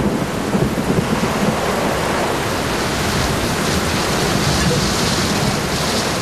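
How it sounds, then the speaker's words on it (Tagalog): Heavy rain pours down outside in a dense, steady roar with deep low rumbling underneath, continuous and loud throughout with no talking. "Naku, ang lakas na ng ulan sa labas."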